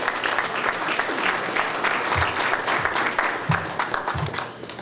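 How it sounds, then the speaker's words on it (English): An audience at a law enforcement service program claps for a Member of Parliament, a dense, loud wash of many hands that fills the room steadily, with a few voices faintly mixed in. "Give them a round of applause, please."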